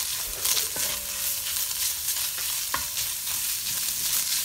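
Garlic frying in oil in a wok, with a steady soft sizzle and occasional scraping and clinks of a spatula stirring.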